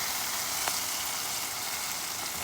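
Onions and green chillies frying in hot tempering oil give a steady, even sizzle, close and continuous with a faint stir partway through and no talk.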